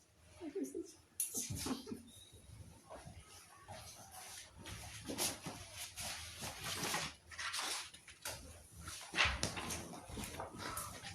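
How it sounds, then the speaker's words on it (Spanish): A small dog whimpering and yipping in short, irregular bursts at close range, mixed with people talking and household bustle. "Uy, mi perrito."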